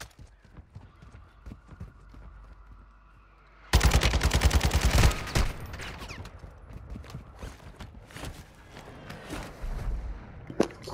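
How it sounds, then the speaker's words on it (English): Mortar strike landing in Call of Duty: Modern Warfare II, a sudden loud blast that cuts in after a quiet stretch, followed by a cluster of sharp impacts and scattered crackling bursts that fade into intermittent pops. "Our mortar strike is inbound."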